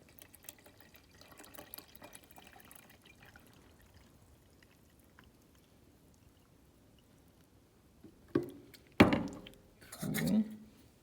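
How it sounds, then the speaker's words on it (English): Tap water pours into a jar of soil in a backyard, a faint trickle early on giving way to louder gushing bursts of filling near the end, with no talking. "So just take regular old tap water and fill up the rest of the jar."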